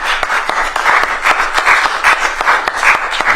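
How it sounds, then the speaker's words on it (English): Brisk, continuous audience clapping, many hands beating in a dense, slightly uneven rhythm, close and loud throughout with no voices over it. "I heard someone like really, really clapping"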